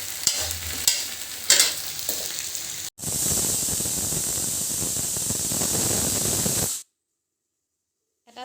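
A pressure cooker holding veg pulao lets out one loud, sustained hissing steam whistle lasting about four seconds. Clattering stirring sounds come before it, and near-silence follows.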